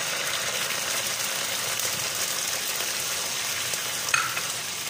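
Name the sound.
sardines being sautéed in a pan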